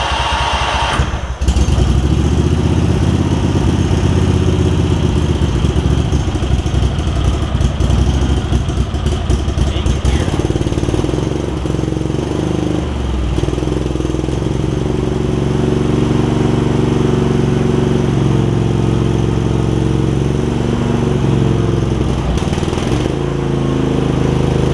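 A Craftsman garden tractor engine with a gummed-up carburetor cranks, catches and settles into a loud, close, steady running drone that holds for over twenty seconds before dipping briefly near the end.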